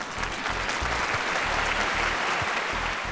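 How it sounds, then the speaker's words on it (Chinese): A studio audience at a Chinese talk show claps together in a dense, steady burst of applause that holds at an even level throughout. "掌声欢送"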